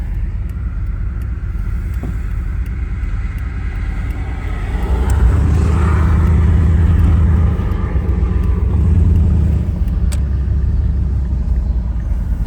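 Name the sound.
vehicle passing by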